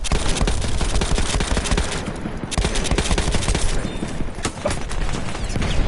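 A light machine gun in the video game Battlefield 1, with a fast fire rate and a 100-round magazine, hammers out long, dense, loud bursts of rapid automatic fire, nearly continuous with only brief pauses.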